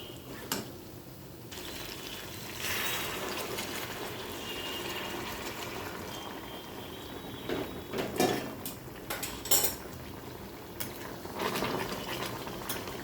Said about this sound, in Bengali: এরপর এবার দিয়ে দেবো হালকা করে জল, গরম জল দেবো